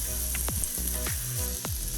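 Steady frying sizzle of chopped greens in butter in a pan, a continuous crackling hiss with occasional clatter of utensils stirring, close and fairly loud.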